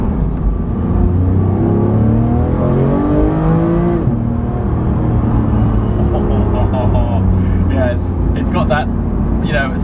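A Porsche 991 GT3 engine revs hard and steadily, its pitch climbing and falling, with a voice talking over the constant loud roar.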